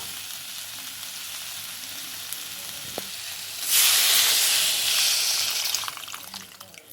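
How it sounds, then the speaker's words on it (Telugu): Tamarind juice poured into a hot pan of endu chepala pulusu, a Telugu dried-fish curry, bursts into a loud, broad sizzling hiss partway through, replacing a quieter simmer before it and slowly easing off toward the end. "ఇప్పుడు మనం ఇందులో చింతపండు పులుసు పోసుకుందాం"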